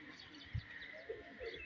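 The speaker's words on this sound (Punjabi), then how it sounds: "ਜ਼ਬਰਦਸਤ ਕਬੂਤਰ" A pigeon coos softly on a rooftop, a few brief low calls spread over faint ambient background noise.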